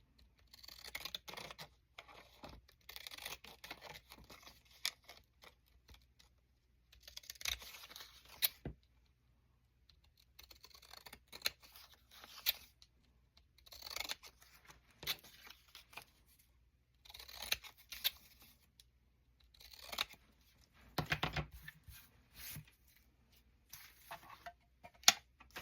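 Decorative-edge scissors with a postage-stamp pattern snip through paper in short, quiet bursts of crisp cuts, repeated at irregular intervals with near silence between.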